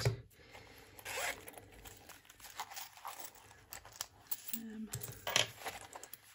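A purse zipper is pulled open in quick rasping bursts, close and fairly quiet, with rustling and light handling noises around it and no talking.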